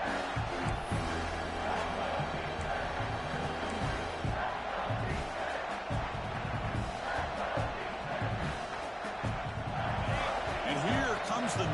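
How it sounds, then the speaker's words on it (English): Stadium crowd noise from the College Football 26 video game, a steady dense roar that swells as the home crowd tries to fire up the defense before a red zone stop, continuous for the whole stretch with commentary voices over it. "This crowd is trying to inspire this defense to make a big red zone stop."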